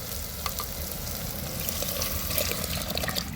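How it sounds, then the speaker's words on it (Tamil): A prepared curry mixture goes into a fish curry cooking in a pan, a brief close mix of pouring liquid and bubbling sizzle lasting a few seconds. "இப்போ நம்ம ஏற்கனவே கரைச்சி வச்ச குழம்ப இதாக கூட சேர்த்துக்கணுங்க."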